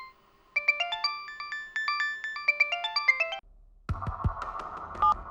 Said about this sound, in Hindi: सर फॉरेंसिक लैब से कॉल।